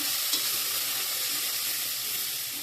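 Spices with Kashmiri chilli and salt fry in hot oil for a vegetarian soybean curry, giving a steady close sizzle throughout with a brief stirring scrape near the start.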